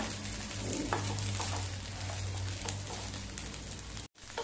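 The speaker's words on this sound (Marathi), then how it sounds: "हे बघा एकसारख्या अशा हलवल्या की छान सगळीकडून भाजल्या जातात मिरच्या." Green chillies roasting and being stirred in a pan over medium flame for a rustic Maharashtrian thecha, a steady close sizzle with scraping stir strokes throughout and a brief gap near the end.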